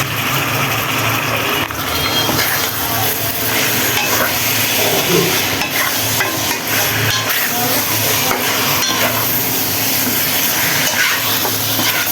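Meat goes into cooked spice masala with oil in a pan, producing a loud, continuous frying hiss and sizzle throughout, with scattered stirring clatter.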